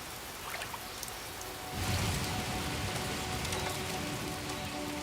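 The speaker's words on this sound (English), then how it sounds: "The jungle still gets heavy downpours." Heavy rain downpour in the Amazon rainforest during the dry season, starting as a light patter and swelling after a couple of seconds into a loud, steady, dense roar of rain drumming on foliage.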